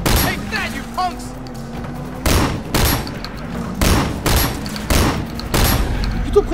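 Repeated shotgun blasts in the Sleeping Dogs Year of the Snake DLC, five or six loud booming shots in an uneven rhythm, with game voices and a tonal background underneath.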